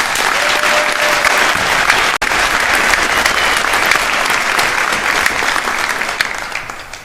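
A large crowd claps steadily at a high school graduation, dense and loud applause filling the hall before slowly tapering off at the end.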